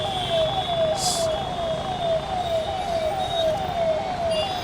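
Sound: ambulance siren, stuck in traffic

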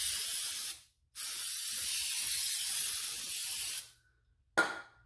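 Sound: spraying carb cleaner on tractor part

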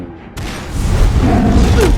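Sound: rapid gunfire sound effect

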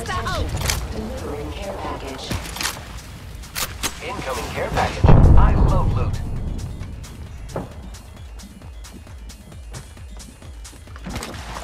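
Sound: gunfire and artillery in a video game

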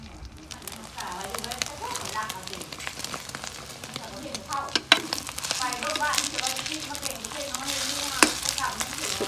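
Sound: eggs frying

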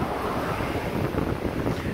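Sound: Pacific Ocean waves at night by a pier

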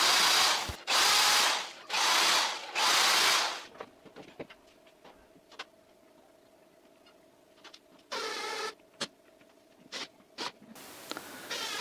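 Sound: power drill drilling into wood

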